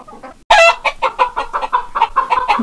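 An Icelandic chicken hen clucks close up in a quick, rhythmic series of sharp, loud clucks that start abruptly after a moment of quiet and keep on steadily.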